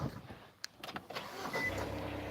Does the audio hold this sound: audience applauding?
no